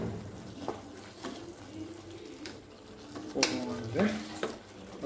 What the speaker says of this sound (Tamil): கொஞ்சம் நல்லா மிக்ஸ் பண்ணி விட்டுருங்க.